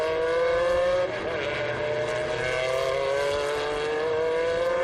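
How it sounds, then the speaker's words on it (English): Corvette race cars, including a 2007 Z6R, accelerate hard down the long start-finish straight at the Estoril Classics historic race, loud sustained engine howls rising in pitch with no talking over them. "Corvette getting the power down now, doing the job on the long start-finish straight, and takes that place"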